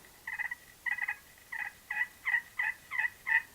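Slate turkey call worked with a striker and aimed away from the microphone, giving a run of eight short, raspy yelps in a steady rhythm, the early ones doubled, heard slightly distant and soft against a quiet background.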